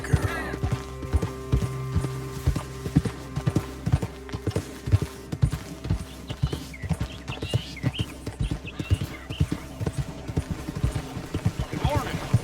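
A horse clip-clops steadily in Red Dead Redemption 2, with loud, close hooves in an even rhythm under sustained background music tones.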